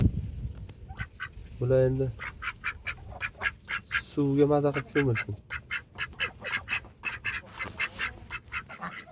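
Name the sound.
ducklings quacking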